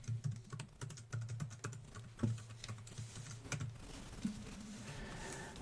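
Fingers type a password on a computer keyboard in quick bursts of clicking keystrokes with short pauses between them. The typing is close and fairly soft, with no talking.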